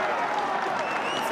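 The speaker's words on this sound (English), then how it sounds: "another huge cheer." At a Munster versus Edinburgh rugby match, the stadium crowd roars in a dense, sustained cheer with applause, loud and continuous across the moment.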